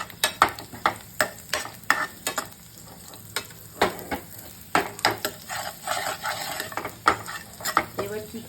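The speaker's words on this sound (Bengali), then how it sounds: "কড়াইতে এই ফ্রাই প্যানে তেল দিয়ে দিয়েছি, কাঁচা লঙ্কা ভাজছি" Green chilies and cumin fry in oil in a frying pan with turmeric and salt, giving a constant sizzle broken by quick, repeated spatula scrapes and clinks against the pan, close and lively.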